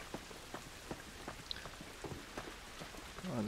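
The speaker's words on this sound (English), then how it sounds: "Oh, the rain looks pretty nice." Steady patter of rain in The Last of Us video game, with scattered drops hitting surfaces, fairly quiet and continuous, with no voices.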